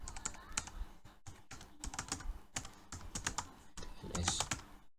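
Fingers type the ipconfig command on a laptop keyboard in quick, close bursts of clicking keystrokes separated by brief pauses, heard alone and quietly.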